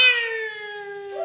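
A single drawn-out cat meow, clear and close with a steady tonal wail that slowly falls, heard alone.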